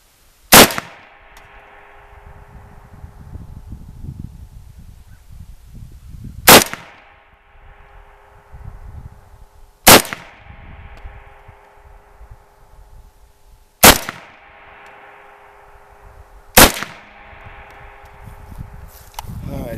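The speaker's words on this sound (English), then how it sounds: "I'm gonna shoot 5 rounds into that, try to hit that metal plate." Five rifle rounds fired one at a time at a metal plate about 200 feet away, each a sharp loud crack with a ringing tail, spaced several seconds apart with quiet shuffling between shots.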